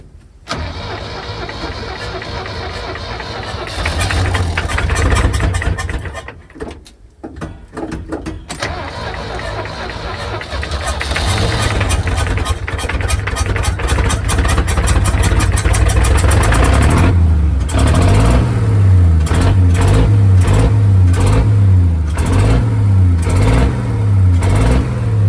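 A 1969 Chevrolet C30 truck, rescued from an oil field, cranks and fires up, stumbles briefly, then settles into a loud, rough idle with rising and falling revs heard close from inside the cab.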